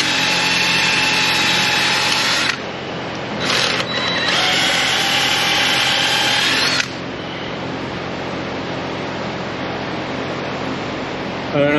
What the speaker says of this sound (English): drilling out the rubber that's in the bushing